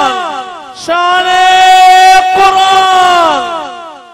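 A crowd shouts a loud, sustained unison response to the takbir slogan call at a religious gathering in Ramadan. Two long chanted swells are heard, close and strong.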